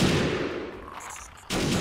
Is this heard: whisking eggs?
no